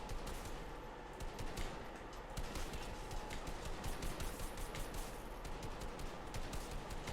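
Hip-fire gunshots in the video game Fortnite crack out in rapid, dense bursts, loud and continuous with scarcely a break, with no talk over them.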